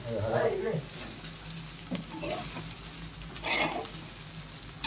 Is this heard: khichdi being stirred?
yes